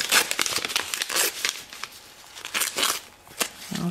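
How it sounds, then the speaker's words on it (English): Seam paper being torn and peeled away from fabric while making a poinsettia centerpiece: close, crisp crinkling and ripping in a quick series of bursts, with no talking. "Also remove the little seam paper."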